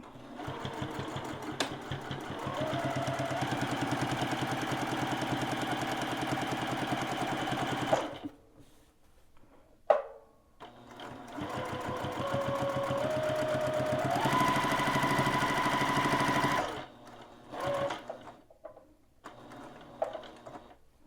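A sewing machine stitches a dog bandana, running in two long, steady mechanical bursts separated by a quiet pause, with faint handling noises between.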